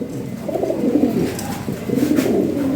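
Lahori Shirazi pigeons coo steadily and close by, their soft throaty calls rolling in overlapping waves with no other sounds.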